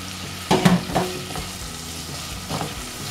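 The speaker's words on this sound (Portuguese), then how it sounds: "agora eu vou acrescentar a cebola" Onion added to garlic frying in butter for a vegetable sauté, sizzling steadily with a few louder bursts and stirring scrapes near the start and again toward the end, no talking.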